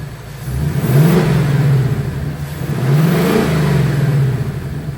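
A 2024 Ford Mustang GT V8 fitted with cold air intakes revs twice at close range, each blip rising to a throaty roar and falling back to a rumbling idle.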